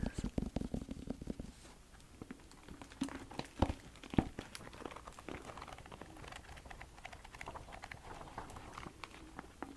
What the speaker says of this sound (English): I'll do a little bit of page turning here.